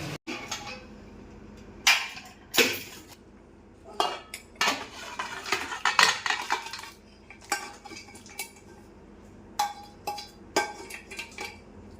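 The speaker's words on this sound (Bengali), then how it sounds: "মাটনটা কেমন হচ্ছে, তোমাদের সঙ্গে কষা হচ্ছে একটু দেখায়।" Mutton is stir-cooked (kosha) in a pot, with a ladle clanking and scraping against the metal in irregular close bursts over a faint background, and no voices.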